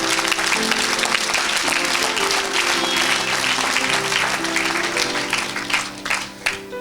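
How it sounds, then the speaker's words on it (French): A church congregation at an evangelical preaching service applauds loudly and continuously, a dense wash of clapping carried over sustained background music. "Come on, acclamez pour Jésus."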